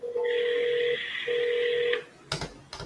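A telephone dials out: a steady tone with a short break, then a burst of quick clicks near the end, close and clear with no voices.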